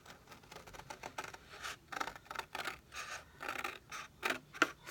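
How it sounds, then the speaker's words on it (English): Scissors snip carefully along a line, cutting out a paper skirt for a Halloween doll craft: a quick irregular series of close, crisp cuts and rustles, fairly quiet and alone. "I am going to fussy cut the skirt out. So I am just cutting it right along the line"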